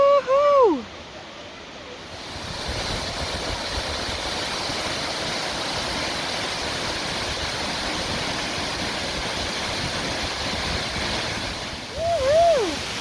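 A waterfall roars in a loud, steady wash of rushing water, close and unbroken, with whooping voices at the start and the end.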